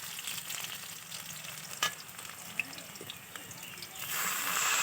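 Onions frying in a pan for a spicy chela fish curry, with a steady broadband sizzle throughout, a couple of sharp utensil clicks, and the hiss swelling louder near the end.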